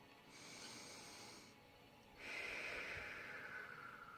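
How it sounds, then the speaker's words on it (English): Two slow, deep breaths, a soft airy inhale followed by a longer, louder exhale, close and quiet in a calm room with no talking. "A few deep breaths."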